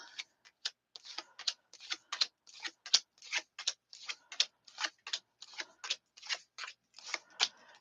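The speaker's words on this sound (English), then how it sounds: "So let's get some cards on the table, y'all." Tarot cards laid one after another onto a table, a quick series of light, crisp flicks and taps, close and quiet with no one talking.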